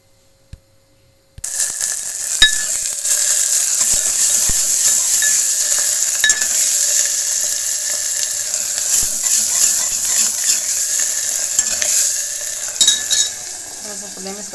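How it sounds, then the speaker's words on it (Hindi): Onions fry in very hot oil in a home kitchen, a loud steady sizzle starting abruptly and running throughout, with occasional clinks of a utensil against the pan and no talking. "तेल बहुत ज़्यादा गर्म कर दीजिए। पहले डाला है प्याज तो वो थोड़ा लाल हो गया"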